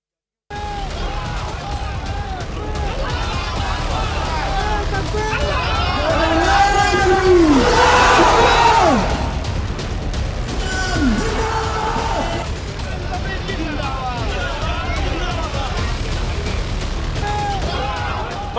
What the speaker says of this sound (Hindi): पश्चिम बंगाल के मुर्शिदाबाद में हजारों की भीड़ उमड़ी।